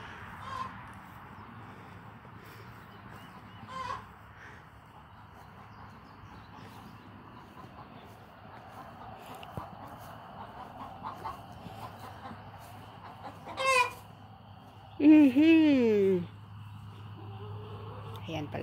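Chickens cluck and squawk nearby on a farm, including a rooster, with a louder burst of calls near the end, while a person talks on and off.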